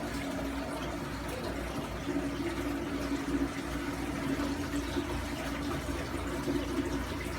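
A saltwater aquarium hose blows water and bubbles over rocks in a tank, a steady close rushing and gurgling wash with a low hum that continues without pause.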